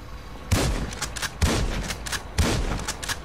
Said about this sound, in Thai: นี่นี่คือลูกซองนะครับ ต่อไปคือลูกซองอันนี้อันเล็ก